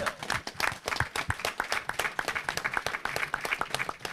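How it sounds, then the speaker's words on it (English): A class audience gives a round of applause at a religious gathering, a dense, lively burst of many hands clapping with sharp individual claps standing out, moderately loud and sustained, without speech over it. "Let's give a round of applause for that deep class."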